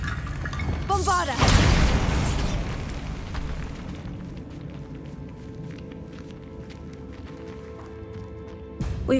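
A Bombarda spell explosion goes off inside a tomb in Hogwarts Legacy: a loud, sudden blast early on that rumbles and fades into a low, eerie ambience, with a short burst returning at the very end.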